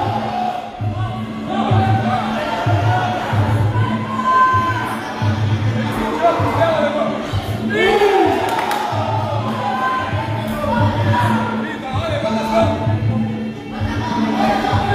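A crowd cheers and shouts steadily throughout a Muay Thai fight in Brazil, a loud, continuous wash of voices with a commentator's speech running on top.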